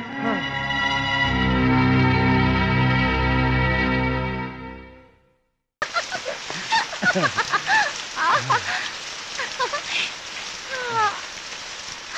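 Steady rain patters across the whole scene, joined partway through by a brief burst of sharper splashy drops and faint chirping sounds.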